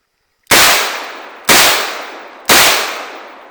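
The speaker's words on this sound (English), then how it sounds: "Let's do some double action shots." Three loud double-action shots from a .44 Magnum Smith & Wesson Model 29 revolver, evenly spaced about a second apart, each a sharp close blast with a long ringing decay, no talking.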